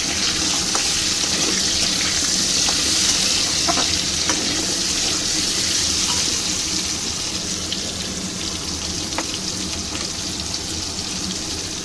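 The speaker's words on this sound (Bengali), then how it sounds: "তারপরে আমি আলুটা ছেড়ে ভেজে নেব, একটু লাল করে আলুটা ভাজবো।" Potato pieces frying in hot oil for a prawn curry, a steady, loud hiss and sizzle with occasional crackles and stirring clinks running unbroken for about twelve seconds.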